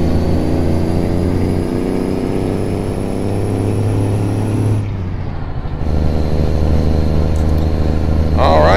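Turboprop engines of a Beechcraft 1900D in X-Plane 11 hold a loud, steady droning hum, with layered harmonic tones that waver, briefly dip and shift midway, then settle back to a constant roar. Someone talks over it.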